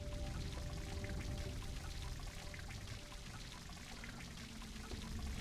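Water poured into a leaking jug in the puzzle adventure game Lost Horizon 2, a steady, continuous splashing flow, fairly quiet and alone, easing slightly toward the end.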